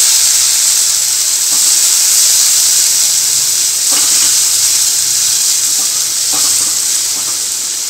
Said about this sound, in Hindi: अब हम इसमें अपना टमाटर डाल देंगे।